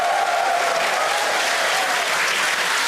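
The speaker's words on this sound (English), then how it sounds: "Crowd here in Hawthorne all went ooh at that first view of the blue flames from the booster" A crowd at a Starship launch viewing in Hawthorne cheers and claps, a dense, loud, sustained roar of applause with no single voice standing out.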